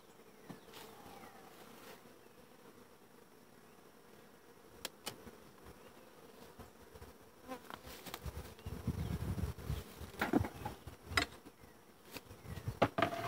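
Honey bees buzz steadily at close range around an opened hive, a busy hum with scattered louder passes and light knocks, growing fuller toward the end.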